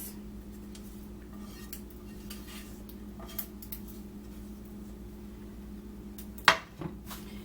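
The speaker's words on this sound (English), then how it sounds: "And then just mix that all together." Pork seasoned with pepper and Creole seasoning is mixed with vegetables in a bowl, mostly quiet under a steady low hum, with soft scrapes and one sharp utensil clank near the end.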